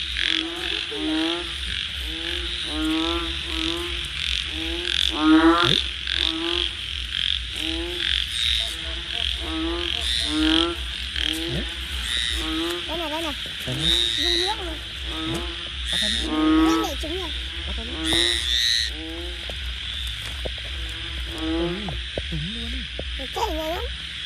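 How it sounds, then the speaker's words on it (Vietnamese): Banded bullfrogs caught for food croak repeatedly in uneven, throaty bursts over a steady high insect-like drone, close by, with occasional voices talking in between. "Con ếch ương nhá mọi người nhá."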